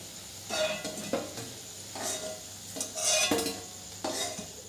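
Kofta balls fry slowly in a pan, a soft steady sizzle broken by utensil clinks and stirring scrapes, close and fairly quiet with no talk.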